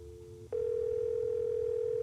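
Telephone dial tone in a video game while calling a number: a brief soft tone, then a click and a loud, steady continuous tone holding to the end.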